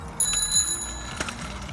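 A child's bicycle bell gives a few quick bright metallic rings in a short burst, close by, with light handling noise.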